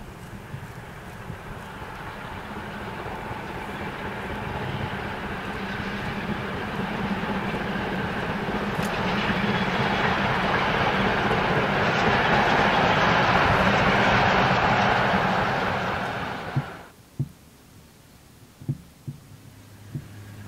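A 1923 Prussian T18 steam tank locomotive, number 78468, passes near Hamern in Münsterland, a steady rolling rumble and hum of wheels and train that builds to a loud close pass, then cuts off abruptly, leaving a few faint clicks.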